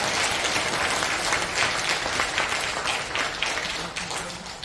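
A church prayer-meeting audience in a library auditorium gives loud, sustained applause to welcome the pastor, dense clapping filling the whole stretch and tapering slightly at the end, with voices mixed in.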